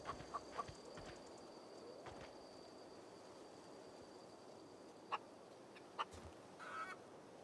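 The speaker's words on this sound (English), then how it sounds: "Chicken, chicken." A chicken in the video game The Outer Worlds gives several short, faint clucks spaced through a quiet ambient background.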